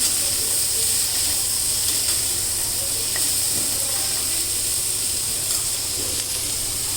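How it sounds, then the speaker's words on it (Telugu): Broccoli pieces fry on a low flame in a pan, giving a constant close hissing sizzle with no pauses. "ఇప్పుడు ఈ బ్రకోలీ ముక్కలు వేసేసుకుందాం. చూడండి, ఇట్లా సిమ్లో పెట్టుకొని ఫ్రై చేసుకుంటే బాగుంటుంది."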